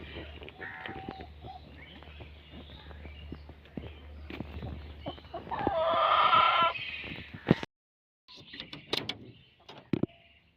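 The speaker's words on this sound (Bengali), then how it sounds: "এই দুপুরবেলা তো মুরগিগুলো না খুব ডাকাডাকি করছে" Hens cluck and squawk amid rustling and footsteps, rising to a louder flurry of clucking before a brief hush and a few more calls.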